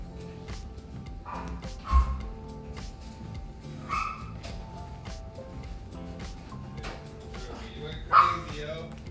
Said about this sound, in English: that's a little Pomeranian barking in the background